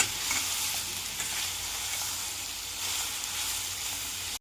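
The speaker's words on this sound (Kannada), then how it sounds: "ಈಗ ಚೆನ್ನಾಗಿ ಫ್ರೈ ಮಾಡೋಣ." Mutton sambar masala fries and is stirred in a pan, a dense, continuous close-up sizzle with gentle swells and no voices.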